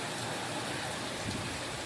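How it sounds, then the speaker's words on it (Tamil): Heavy rain mixed with hail pours down in a steady, dense hiss, close and continuous, with faint drumming on surfaces throughout. "ஐஸ் கட்டி மழையில பெய்தா"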